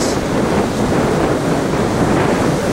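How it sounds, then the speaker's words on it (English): Wind blows hard across an open sandy beach, buffeting the microphone in a loud, unbroken broadband roar, with no voices present. "out here in the wind on the windy beach with all the angels with Pastor Chick"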